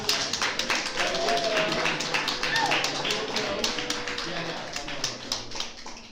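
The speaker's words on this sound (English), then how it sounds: "everybody please clap it up real loud for your sister" Open mic audience clapping steadily for a performer, dense claps spread over a murmur of voices, fairly close and sustained throughout.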